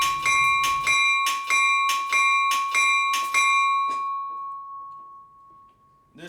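An EMD steel bipod-type locomotive bell, likely from a switcher, clangs loudly about seven times in an even rhythm, then a final strike rings out and decays with a long sustained tone, heard alone.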